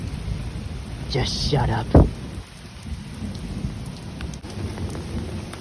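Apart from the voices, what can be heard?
thunderstorm with rain and thunder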